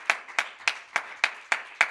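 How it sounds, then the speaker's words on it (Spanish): A church congregation gives a quick burst of applause. Seven evenly spaced claps ring out in a steady rhythm, fairly soft and a little distant, with no voices over them. "Un aplauso."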